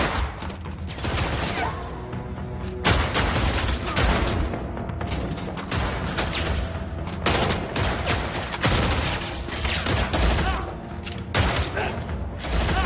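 Dense gunfire and impacts from a fight scene in a Korean action film, a loud continuous barrage of shots, thuds and clatter running the whole length with no speech.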